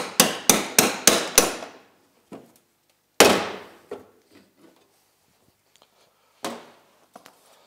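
An old claw hammer strikes close and loud: five quick, evenly spaced blows, then a few scattered single hits and lighter taps with pauses between, in a workshop during a modified Yamaha Enticer snowmobile build.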